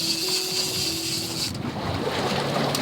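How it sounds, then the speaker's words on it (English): Big ocean waves rush around a boat at sea off Cape Verde under strong wind buffeting the microphone, a loud, continuous roar of water and wind with a surge partway through. "Why are the waves suddenly getting so massive?"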